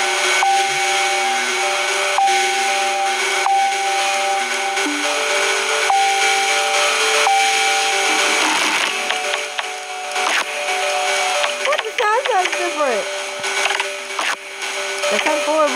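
Corrupted Wii BIOS menu music plays loudly, with glitchy repeating tonal loops and warbling, sliding pitches that grow more distorted toward the end, filling the whole clip with no clear speech.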